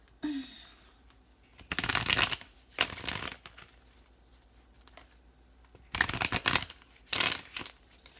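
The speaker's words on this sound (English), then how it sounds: "So let's go ahead and clarify some of these cards, Cap." Tarot cards shuffled by hand in a quiet room, heard as four separate bursts of crisp riffling and flicking with short silent gaps between them.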